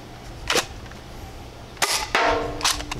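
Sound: Heatwave Ice Phoenix foam dart blaster firing

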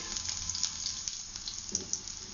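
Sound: garlic pieces sizzling as they fry in hot oil

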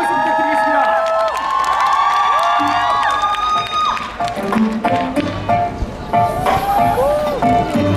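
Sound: audience applauding and cheering at a mini concert

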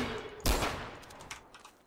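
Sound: gunfire in video game Garry's Mod TTT

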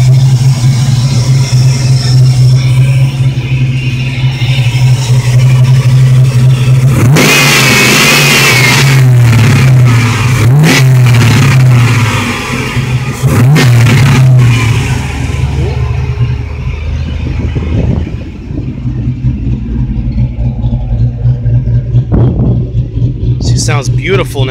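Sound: 1980 Chevy Malibu Wagon 6.0L engine revving

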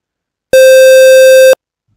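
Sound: synthesized sine wave mixed with square wave

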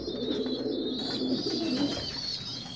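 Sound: pigeon cooing

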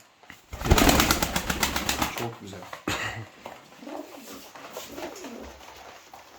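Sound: show birds at a bird sale

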